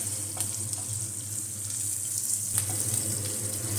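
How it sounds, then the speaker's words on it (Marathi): A cup of water pours steadily into a pan of hot asafoetida tempering for dhokla, a continuous splashing rush with a faint sizzle underneath and no talking. "आपण त्यात पाणी घालतो एक कप"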